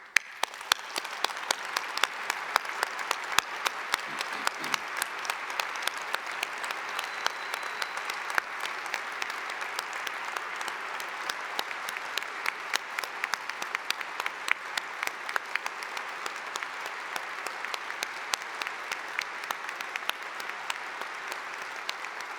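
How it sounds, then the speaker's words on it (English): An audience at a York St John University graduation ceremony gives the graduates a long, steady round of applause, even clapping that carries on without a break, filling the hall with no speech over it. "giving a humdinger clap of congratulations to all our"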